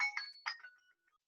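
A phone ringtone chimes a short melodic burst of bright tones, quiet and isolated, fading out within about a second.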